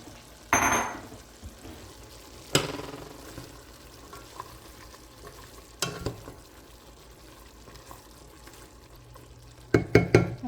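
Onions and carrots cooking in a pot on the stove, with intermittent stirring scrapes, clinks of a utensil against the pot, and a soft sizzle and bubbling underneath; quiet overall with several sharp bursts of activity.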